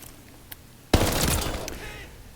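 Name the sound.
Tommy Gun submachine gun firing, Call of Duty Vanguard video game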